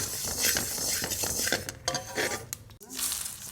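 Fennel seeds are dry-roasted in a pan without oil and stirred, giving close, irregular scraping and clinking of a spoon against metal with light rattling.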